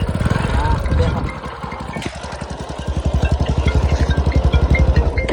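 A motorcycle engine runs close by with a steady, rapid low throb that dips briefly and then settles into an even idle, with voices talking over it.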